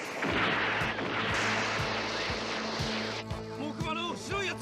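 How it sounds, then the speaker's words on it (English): Space battle explosions from the animated film Mobile Suit Gundam boom repeatedly in a dense, rumbling wash of blasts and beam effects, loud and continuous with sharp thuds every half second. "all the explosions and stuff like that are effects that are from the 1980s"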